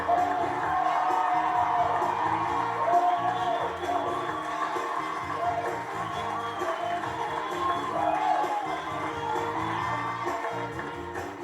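A 1996 Newlywed Game studio audience cheers and whoops, a moderately loud, continuous crowd roar with scattered shouts that swells and eases over about eleven seconds.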